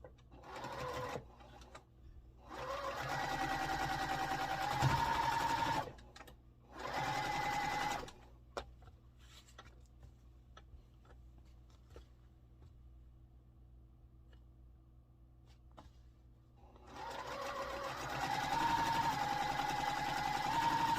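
A sewing machine stitches quilt block pieces in several separate runs of fast, steady needle whirring, with quiet pauses and faint handling noises between the bursts.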